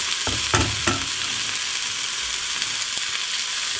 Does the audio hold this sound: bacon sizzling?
yes